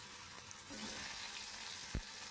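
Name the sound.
potatoes added to hot oil with tempering spices, frying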